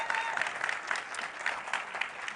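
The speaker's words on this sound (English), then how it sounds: "Give him a big round of applause." Audience round of applause at a launch event as a company CEO is welcomed on stage, a steady, moderately distant wash of clapping from a crowd lasting throughout.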